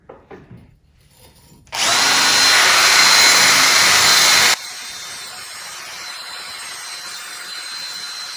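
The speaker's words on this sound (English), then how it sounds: "Just wanted to get some of that surface rust off on it." Power tool grinding surface rust off a steel car jack, starting abruptly after a few quiet handling knocks, a loud high whine for about three seconds, then dropping to a softer spinning-down hum.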